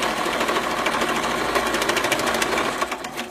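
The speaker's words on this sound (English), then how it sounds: "so now we've sewn that" A sewing machine stitches a seam on a hooded garment, a fast steady rhythmic chatter of the needle running close and continuous before slowing and stopping at the end.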